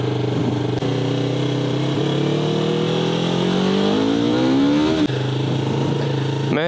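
A Yamaha R3 sport bike rides out of the woods, its engine droning loud and close, then revving up through rising pitch before settling back to a steady hum.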